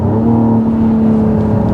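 A 2024 Mercedes-AMG GLE 53 engine revs hard and close, a loud steady drone that holds its pitch with a slight dip and rise, with no voices over it.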